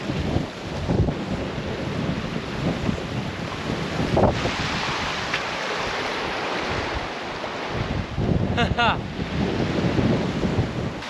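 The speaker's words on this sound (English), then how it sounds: "This is some serious wind." Strong wind roars and buffets the microphone continuously, with gusting rumbles rising and falling and a brief rattle partway through.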